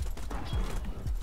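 Horse hooves clop in the Joust video game, a quick run of muffled thuds with a possible faint neigh in a very brief moment.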